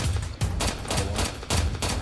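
Rapid, loud automatic gunfire in a Roblox hood roleplay shooter game, repeated bursts of shots firing close up in quick succession with brief breaks between volleys.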